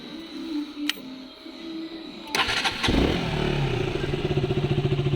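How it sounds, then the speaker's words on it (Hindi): A KTM RC 200 motorcycle engine cranks and fires up, then settles into a steady, loud, throbbing idle close by, with a few clicks and rattles before the start. "ये है KTM RC 200 का साउंड।"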